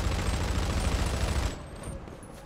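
A dense burst of rapid gunfire dominates, then cuts off abruptly into quieter rumbling noise, like automatic weapons in a video game.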